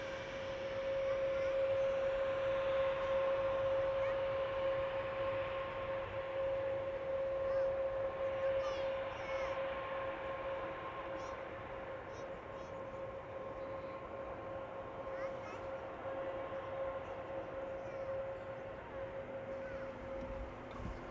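A Boeing 747 airliner landing at Amsterdam Schiphol Airport, a sustained distant jet roar with a steady high engine whine, fairly even across the whole stretch before it slowly eases off.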